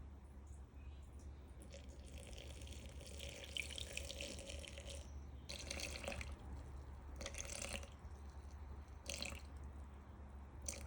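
Tap water runs and splashes into a bowl of flour while making burger bun dough in a home kitchen, a steady close hiss with a few louder bursts of pouring and dripping, no talking.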